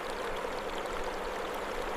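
Cold, pure running water flowing through a wasabi field, a steady broadband rush like a stream, moderately quiet and continuous with no voices.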